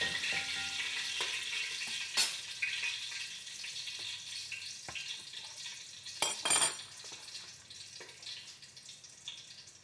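Onions frying in a little oil with pulao spices, a quiet steady sizzle broken by a few sharp clinks of a utensil against the pan and brief stirring scrapes.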